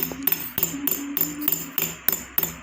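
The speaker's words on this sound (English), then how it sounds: "when we hammer" A metal pin hammered against rough stone in stone fitting and engraving work, striking in quick, steady repeated taps with sharp ringing clinks, close and clear.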